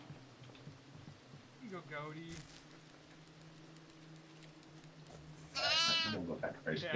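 Goat bleating in the horror video game Devour, several wavering bleats, one faint early and a louder trembling cry near the end, heard over a low game drone with players talking.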